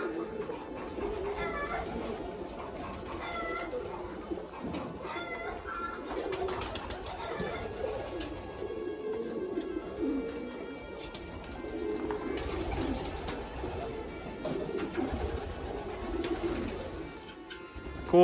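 Pigeons cooing repeatedly at a farm in the middle of the desert, soft rhythmic calls over a low steady background, fairly close, with no talking.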